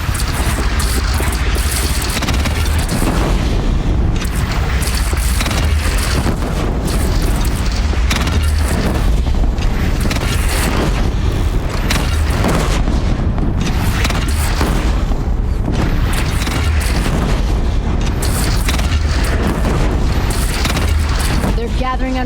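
Bandit cannon fire in a Horizon Zero Dawn battle: heavy booming blasts repeat densely and loudly throughout, mixed with crackling bursts and shouting voices.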